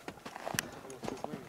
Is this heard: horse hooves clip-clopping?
yes